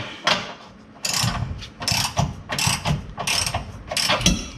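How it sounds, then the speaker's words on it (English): A hand wrench ratchets up close while Bilstein 4600 shocks are installed on a Ford F-350, with repeated short bursts of clicking strokes separated by brief pauses. "I can't talk and run a wrench at the same time"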